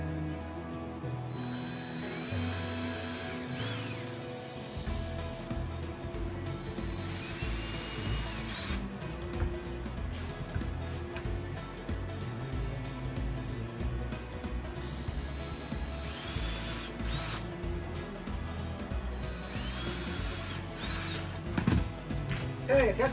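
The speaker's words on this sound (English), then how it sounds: "what I'm doing now is I'm pre-drilling the holes for the other screws" A power drill pre-drills screw holes through pine door hinges, whirring in several separate bursts with pauses and handling clatter in between, close by in a workshop.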